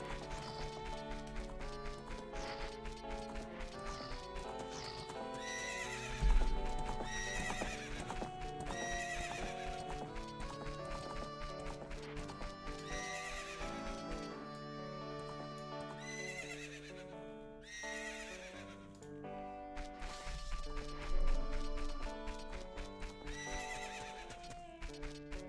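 Horses neigh and hooves clip-clop in a video game, The Legend of Zelda: Ocarina of Time, over steady layered game music for the whole stretch, with a few louder whinnies rising above it.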